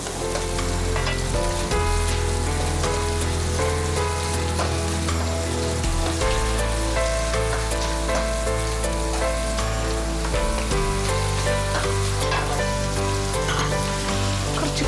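Chopped onion frying in coconut oil with ginger, shallots, green chilli, fenugreek and curry leaves makes a loud, steady sizzle that runs the whole time, with stirring and crackling throughout and no voices.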